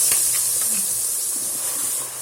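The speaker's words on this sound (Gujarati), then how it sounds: "એક મોટો ચમચો તેલ મૂકી દીધું છે ને હિંગ નાખી અને પાલકની ગ્રેવી વઘારી દઈશું" Hot oil with asafoetida hisses steadily as spinach gravy goes in for tempering, a bright, even sizzle that runs close and unbroken for the whole moment.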